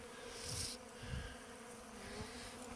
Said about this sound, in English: You can still see there's bees cleaning up the syrup that's on the hay.